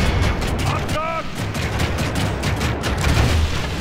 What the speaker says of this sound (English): Come, fire on some of the militia.